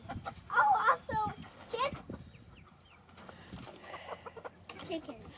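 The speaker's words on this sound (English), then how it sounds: "That's the other rooster." Chickens cluck and a rooster calls nearby on a farm, in short bursts and squawks between quieter stretches, with people talking over parts of it.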